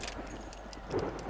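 Keys being picked up in the game Alan Wake make a short, close jingle of light metallic clinks with a few bright taps in quick succession.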